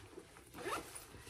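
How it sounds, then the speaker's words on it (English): Zipper on the top closure of a mini tote bag drawn open in one short, faint rasping pull, close by in a quiet room. "You have a zipper top closure."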